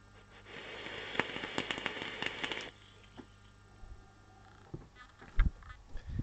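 Crackling and popping from a freshly built coil firing on a Coil Master RAY RTA mounted on an electronic box mod, a dense burst of close crackles lasting a few seconds, then fading into quieter scattered pops.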